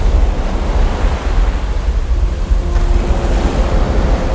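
Huge ocean waves roar and crash in a steady, loud, dense surge of water, with a low wind-like rumble running underneath and no voices.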